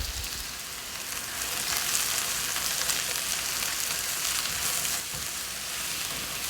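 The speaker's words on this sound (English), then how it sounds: "Saute the mushrooms until they're tender." Mushrooms and onions sauté in olive oil in a pan over medium heat, giving a steady, close sizzle that holds at an even level throughout with no voices.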